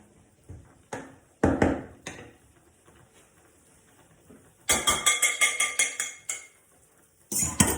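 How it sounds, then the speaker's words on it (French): Pasta cooking in a pot is stirred now and then with a utensil, giving bursts of metallic clinks and scrapes against the pot between quiet stretches, with a longer run of rapid taps near the end. "Je remue de temps en temps."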